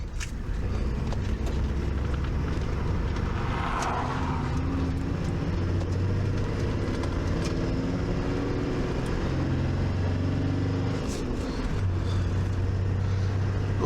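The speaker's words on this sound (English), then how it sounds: "There's a car coming, we'll let them go." A small BMW car on an outback road approaching and passing, heard as a steady rumbling drone with wind noise that rises and fades, recorded from inside another vehicle with no talking.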